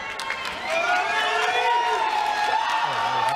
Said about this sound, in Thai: เชียร์กระหึ่มครับ